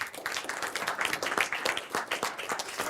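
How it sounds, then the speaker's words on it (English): Audience applause for a speaker taking the stage at a talk, crisp individual claps from a modest crowd forming an uneven, fluttering patter at moderate loudness. "Let's give Michael a round of applause."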